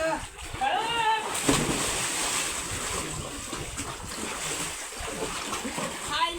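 A person plunges into open water at the seashore, a splash followed by churning water, wind and surf, with voices calling and chatting over it.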